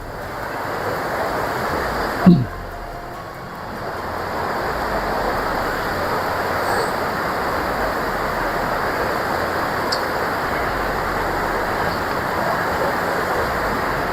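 A fast, rushing river in full spate, a loud and unbroken broadband roar close to the microphone that continues steadily for the whole stretch after a brief knock near the start, with no voices over it.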